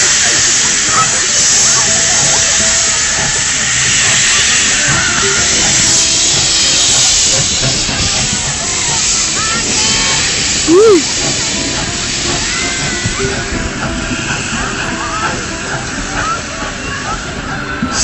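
A steam train on the Mornington Peninsula releases a long, steady loud hiss of steam that fills the whole stretch, with a few short whistle-like tones and faint voices underneath.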